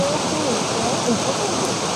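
Steady, dense rain pours outdoors, a continuous loud hiss and patter with faint gurgling running through the whole stretch.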